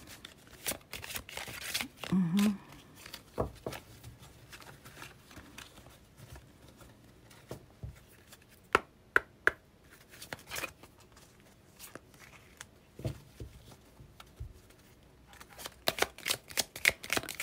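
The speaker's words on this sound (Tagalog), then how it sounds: "Ang ganda niyang balasahin kasi maliit siya." Small deck of tarot cards shuffled by hand, with repeated riffles, crisp snapping flurries and sliding card noise in bursts over a quiet room, close and clear.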